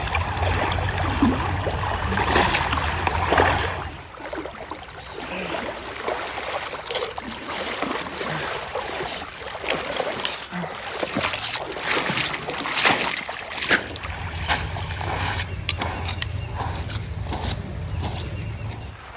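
Water splashes and sloshes steadily as someone wades on foot across a cold creek on the Ozark Trail, with fuller, louder surges at the start and end and no talking.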